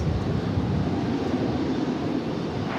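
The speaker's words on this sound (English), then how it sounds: "It's an Airbus A321." An Airbus A321 airliner at DFW Airport gives off a continuous loud broadband roar, steady and close throughout.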